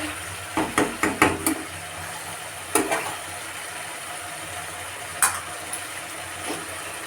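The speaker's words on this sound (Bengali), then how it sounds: "আদা রসুন বাটা পেঁয়াজ কুচানো শুকনো লঙ্কা আর টমেটো দিয়ে ভালো মতো কষিয়ে দিচ্ছি মশলাটা" Masala of ginger garlic paste, chopped onion, dried red chilli and tomato being fried for chicken biryani, with a metal spoon scraping and knocking the pan in short bursts over a low steady sizzle.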